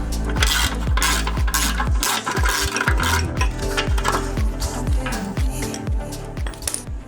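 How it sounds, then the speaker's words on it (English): Ratchet wrench loosening the two 14mm bolts on a stock motor mount (roll stopper) of a Mitsubishi EVO VIII, giving a steady run of close metallic clicks with repeated heavier knocks, with no talking. "all we have to do is remove those two 14mm bolts"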